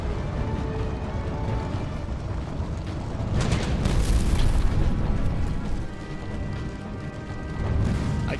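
Kamikaze planes slam into ships in the naval combat game Battlestations, producing loud, rumbling explosion booms that swell over a steady droning background, with the heaviest blast near the middle and another near the end.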